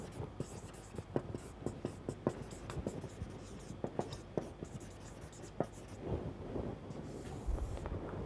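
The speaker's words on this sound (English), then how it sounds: "So, if I am just writing this forward difference table" Pen or chalk writing out a forward difference table during a maths lecture on interpolation, with repeated short strokes and taps in a steady rhythm under a faint background hum and soft breathy noise.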